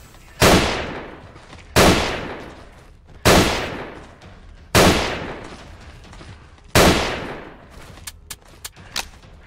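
Five loud, evenly spaced gunshots ring out close by, each with a long decaying echo, followed by a few small sharp clicks.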